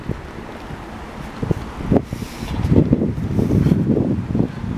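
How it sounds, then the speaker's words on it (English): Strong wind gusting outdoors along a street near a rail overpass in Montreal West, a rough, low rumbling roar that swells and grows louder after the first two seconds, buffeting close to the microphone with no talking. "the winds are kind of heavy today"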